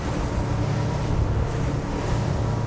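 Tesoro T40 motorboat with a V10 350hp engine cruising at speed through light onshore waves, giving a loud, continuous low engine roar mixed with rushing water and wind noise.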